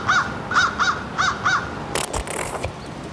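A crow caws five times in a steady, evenly spaced series, loud and near, followed by a brief burst of rustling noise.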